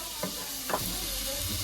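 Hotdogs stirred and frying in a pan, with a constant sizzle under a couple of quick scraping stirs of the utensil, close and fairly quiet.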